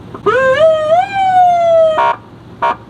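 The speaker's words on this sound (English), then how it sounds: "we have this like siren function" An electronic siren tone from a PA system sweeps upward and then slides slowly down for about two seconds, followed by two short, sharp horn-like blasts.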